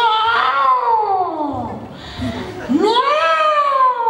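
A person imitates a cat meowing on a comedy stage, two long drawn-out vocal meows, the first falling and the second rising, loud and close.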